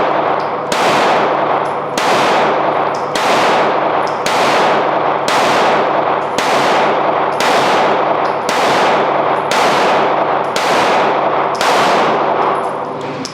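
An HK VP9CC pistol fires eleven loud, sharp shots at an even, unhurried pace of roughly one per second, each crack followed by a short ringing decay, with no talking.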